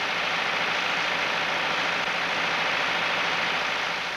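An International Harvester tractor engine runs during factory performance testing, giving a steady, loud, broadband drone that holds unchanged throughout with no voices.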